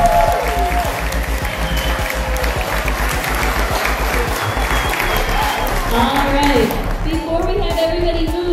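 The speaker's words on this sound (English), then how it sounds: "We give another huge round of applause." A large crowd applauds steadily at an elementary school fifth grade continuation ceremony, dense clapping filling the space with a few voices calling out over it.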